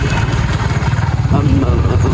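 A 155 cc motorcycle engine idles and putters as the bike is parked, a steady low rumble with a fast pulsing beat, heard close while someone talks over it.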